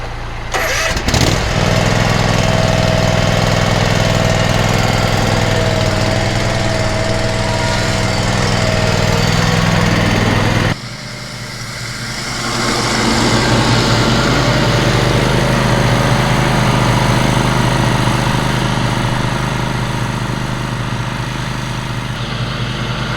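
A lawn mower engine runs loud and steady close by, with an abrupt drop partway through before the engine noise builds back to a steady drone. No one speaks.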